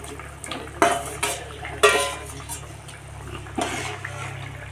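Rohu fish going into a boiling curry in a home kitchen, a few sharp metallic clanks and clatters of pot and utensils over a soft low simmering hum.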